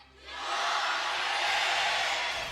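Large arena crowd at a League of Legends Worlds 2023 Swiss Stage esports match between T1 and Cloud9, roaring and cheering in a broad, sustained wash that swells after a brief lull and holds steady.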